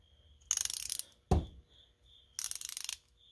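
A rebuilt Snap-On ratchet clicks in two quick bursts of crisp pawl ticks, close and clear. A single dull knock falls between the bursts, and the ticking stands alone in quiet surroundings.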